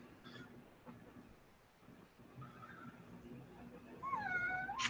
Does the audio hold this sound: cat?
yes